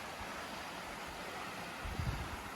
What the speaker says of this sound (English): just a pretty cool waterfall right there